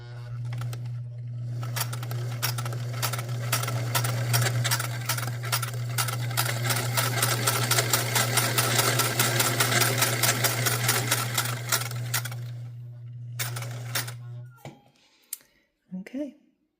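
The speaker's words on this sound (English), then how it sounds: "let's just see if we can get some stitches out of her" A Singer 348 sewing machine with a misaligned needle position stitches at a steady whirring, clicking run for about fourteen seconds, then winds down and stops, followed by a few short handling noises.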